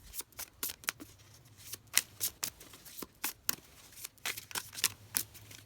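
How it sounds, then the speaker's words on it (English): Playing cards are shuffled close up in quick riffling bursts, repeating in an uneven rhythm with brief pauses between. "We'll shuffle it properly."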